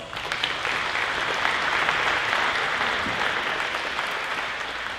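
Sustained applause at a high school athletics banquet honoring athletes and coaches: a broad, even roar of many people clapping together, continuous and steady from start to finish, with no pause or lull.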